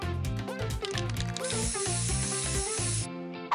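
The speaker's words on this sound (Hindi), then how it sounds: "एक स्प्रे कैन" A spray paint can lets out one continuous, sharp hiss lasting about a second and a half, heard over upbeat background music.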